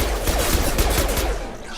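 Rapid gunfire in Mass Effect 2, with quick overlapping bursts of shots during a firefight that stay loud and steady before easing off at the end.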